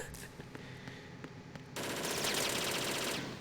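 Enemy gunfire in Metal Gear Solid 2: scattered sharp game shots and clicks over a low hum, then a sudden dense, loud stretch of sustained automatic fire that continues to the end, with no talking.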